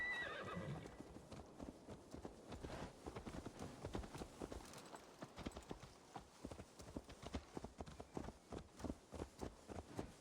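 In Assassin's Creed Valhalla, a horse whinnies at the start, then hooves clop steadily on hard ground in a brisk rhythm, fairly faint with a low rumble.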